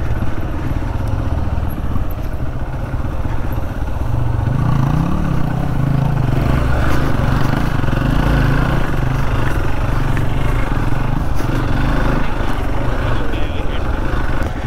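A motorcycle on a rough jungle trail engine-brakes with the rear brake held, its engine droning at a steady mid pitch and close, the note lowering and rising slightly over the whole stretch.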